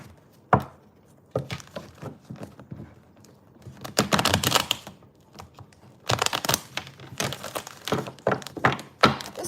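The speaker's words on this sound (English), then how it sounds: "Next shuffle." Crisp riffling bursts of playing cards being shuffled, several quick flurries with short pauses and a few soft thumps as the deck is tapped.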